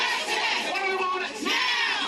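Crowd clamoring outside Dalton Village Hall, a dense wash of overlapping shouts and voices at moderate distance, continuous for about two seconds.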